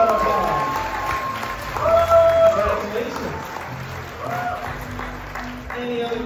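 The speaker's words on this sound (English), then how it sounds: "Let's give them a round of applause." A birthday party audience in a hotel applauds an elderly married couple, a sustained wash of clapping at moderate loudness, mixed with murmuring voices and a speaking announcer.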